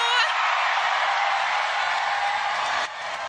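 A large tennis crowd at a Canadian Open match, many waving Filipino flags, cheers in a loud, sustained roar that drops slightly just before cutting off.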